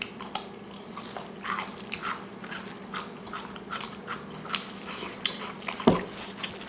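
Crunchy bites and wet chewing of Bibigo chonggak (ponytail radish) kimchi eaten with air-fried pork belly, close to the mic, steady mouth sounds with one sharper crunch near the end.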